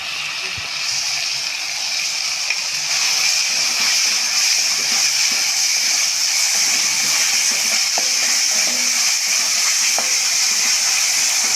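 Onions sautéing in a pan with coriander, mint and curry leaves give a steady, close sizzling hiss that runs unbroken from start to finish, with no talking.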